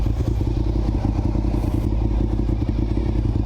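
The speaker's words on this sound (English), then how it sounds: "Sounds so good. Such a clean sounding exhaust." A Honda RC51 motorcycle exhaust idles and burbles loudly and steadily up close, a deep rumbling throb with no one talking.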